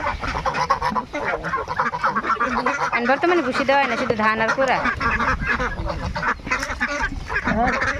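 Domestic ducks on a Bangladeshi backyard farm quack and honk loudly and near throughout, a busy overlapping flock while a person talks over them.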